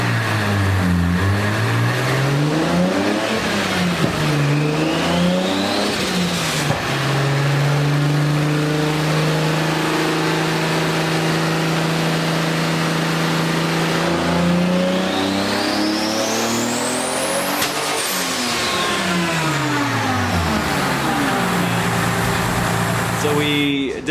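A 2JZ-swapped BMW M3 screams through a dyno pull, its engine note rising and falling loudly and continuously, with high-pitched whine sweeping upward near the end of the run.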